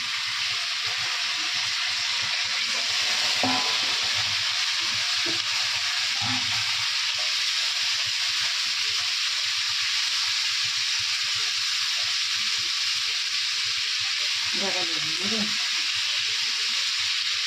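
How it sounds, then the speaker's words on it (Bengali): Potatoes fry in a pan in a Bengali home kitchen, producing a continuous, even hiss of sizzling oil, with a few brief voices speaking in the background. "ভাজা ভাজা হয়ে গেছে আলুটা দিয়ে দিচ্ছি"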